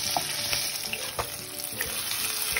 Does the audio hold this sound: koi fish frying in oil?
yes